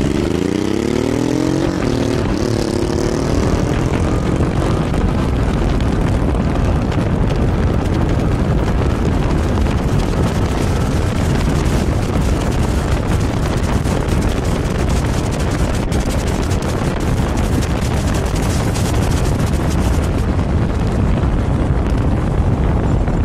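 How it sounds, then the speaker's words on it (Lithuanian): Honda motorcycle racing down a drag strip: an engine note sweeping upward in pitch at the start, then a sustained, loud, rough roar buffeted by heavy wind noise for the rest of the run. "dabar Egidijus Vaitkus iš Kauno su Honda kairėje pusėje"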